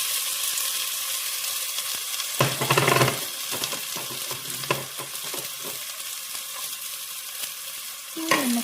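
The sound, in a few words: crushed garlic and onion sautéing for rasam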